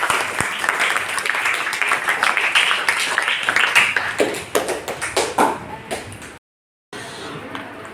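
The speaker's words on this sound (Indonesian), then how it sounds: "Tepuk tangan dulu lah untuk kita." A classroom of students claps together, a dense burst of handclaps that thins into scattered claps before a brief cut, with some voices mixed in.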